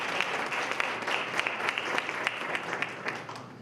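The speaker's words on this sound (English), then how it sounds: "Round of applause." An audience at a 2017 SMME Opportunity Roadshow business event in Gauteng bursts into applause, a dense, steady wash of many hands clapping at close range for nearly four seconds, with no speech over it.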